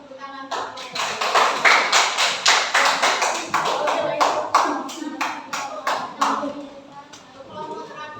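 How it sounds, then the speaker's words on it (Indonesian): Classroom applause rings out after a student group's teaching presentation, a dense run of many hands clapping for several seconds, close and lively, then tapering off near the end. "Berikan tepuk tangan untuk"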